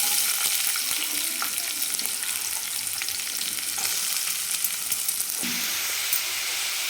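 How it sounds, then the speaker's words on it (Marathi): Green chillies and onion frying in hot oil for a quick egg chutney, a constant loud sizzle with occasional stirring scrapes and pops throughout. "मिरची छान तेलामध्ये तळून झाल्यानंतर लगेच आपल्याला याच्यात कांदा टाकायचा आहे"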